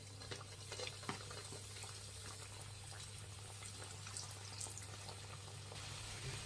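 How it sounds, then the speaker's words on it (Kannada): Egg puffs frying in hot oil on a medium flame, a steady close bubbling sizzle that stays even throughout, with no voices. "ಎಣ್ಣೆ ಬಿಸಿ ಆಗಿದೆ. ಈಗೆಲ್ಲ ಒಂದೊಂದು ಎಗ್ ಪಫ್ ಹಾಕ್ಕೊಳ್ಳೋಣ."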